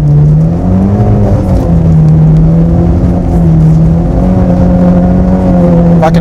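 Mitsubishi Evo X with extra power held sideways on a skidpan with stability control off, its engine droning loud and steady close by, pitch rising and falling slightly as the throttle is worked.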